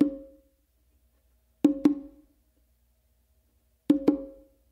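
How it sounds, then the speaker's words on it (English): Open tones on the hembra of a bongo, struck by alternating hands in close pairs, sounding as three crisp, resonant double strikes separated by silence, close and alone. "you're going to do an open with your dominant hand on the hembra, and then you're gonna do another open with your non-dominant hand on the hembra"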